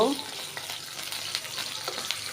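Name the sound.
onions frying and being stirred in pan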